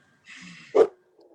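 A dog gives a single short, close bark after a brief soft whine, then falls quiet.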